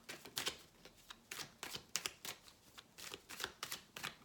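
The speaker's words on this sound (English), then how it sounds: "I don't even know why I'm shuffling." Tarot cards are shuffled by hand in a quiet room, a fast run of soft, crisp riffles and taps repeating in an uneven rhythm up close.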